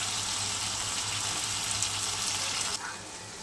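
Fish fat frying in a covered pan gives a steady, dense sizzling hiss that drops noticeably softer near the end, with no voices.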